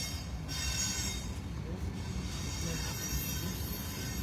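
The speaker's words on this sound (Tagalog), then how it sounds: "So, we're going to Papenburg, Germany, 3 hours train." The inside of a moving train on a three-hour ride to Papenburg, Germany, fills with a continuous low rumble and rattle, with faint wheel squeal over the steady running noise.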